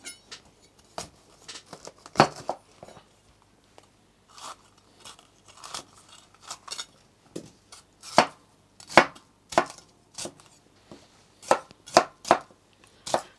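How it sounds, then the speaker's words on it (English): Knife roughly chopping red bell pepper on a cutting board for Turkish Adana kebab, crisp irregular crunchy thuds repeating in bursts, close and clear without talking. "Again, roughly chop it."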